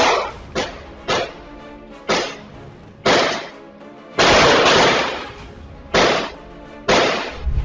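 Police gunfire: a series of loud, sharp gunshots ring out at irregular intervals, about nine blasts, each with a booming echo trailing off; one longer burst mid-way.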